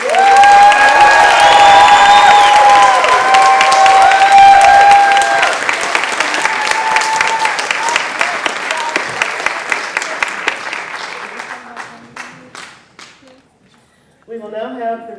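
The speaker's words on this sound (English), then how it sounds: "one more round of applause and congratulations for the class" An audience at a community college practical nursing pinning ceremony gives loud, sustained applause with cheering and whoops for the graduating class. The sound thins to scattered claps near the end, and a voice speaks briefly as it dies away.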